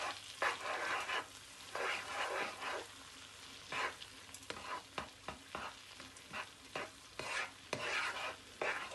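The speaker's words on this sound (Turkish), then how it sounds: "sarımsağımı Birazcık şöyle kokusu çıksın kavuruyorum" Garlic sautéing in a pan for pan-cooked chicken and potatoes, with repeated scraping stirs over a soft sizzle, irregular strokes close to the listener and no speech.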